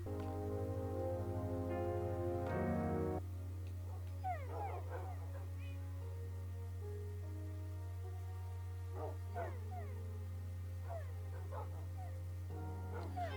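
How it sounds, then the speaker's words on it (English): Several dogs in Minecraft whimper, yip and bark in short bursts over a steady low electronic hum and background music, with no talking. "I'm uncomfortable with the amount of dogs up here."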